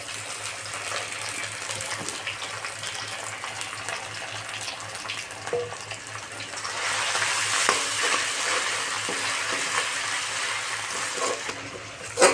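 Ginger-garlic paste and chili paste frying with onions in a pan for a Bengali village-style potato and catfish curry, giving a steady close sizzle with stirring scrapes that grows louder and brighter midway, no talking.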